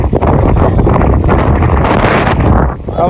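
Strong, cold wind buffets the microphone in a continuous, loud roar with gusts throughout, on a mountain trip in Mustang.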